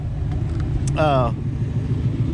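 A Ford Mustang fitted with Stainless Works headers, an X pipe and stock mufflers idles with a low, steady rumble up close, while a person speaks briefly over the engine.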